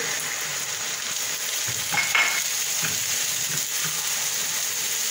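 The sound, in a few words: water added to a sizzling pan of soup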